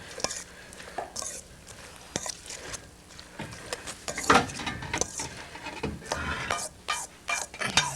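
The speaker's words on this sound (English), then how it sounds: "now we put the salmon in. Stir that around" Salmon being stirred in a pan for a Hawaiian dish, irregular scrapes and knocks of a utensil against the pan over a faint sizzle, with a sharp clatter midway and no talking.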